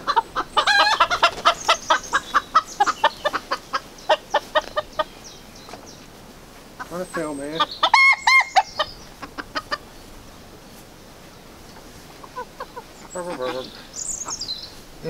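Chickens cluck in quick repeated bursts, close by, with brief pauses and a few louder squawky calls later on; no talking.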